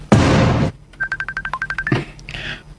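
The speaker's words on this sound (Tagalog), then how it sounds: "Ibagting ang cellphone." A cellphone ringtone chirps as a quick run of evenly spaced electronic beeps, loud and close, after a burst of noise at the start.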